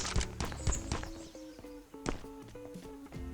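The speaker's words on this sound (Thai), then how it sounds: "และบ้านนี้ครับเสียงเท้า" Footsteps move through a house in the survival shooter Last Island of Survival, a run of quick, close thuds and taps against a sustained low tonal game background, with no speech.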